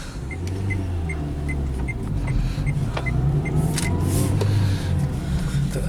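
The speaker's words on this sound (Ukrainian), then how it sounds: "Автомобіль ще рухається." A Renault-built Dacia Logan drives on the road after a repair, heard from inside the cabin as a steady low engine and road rumble that rises slightly, with a few faint ticks and clicks.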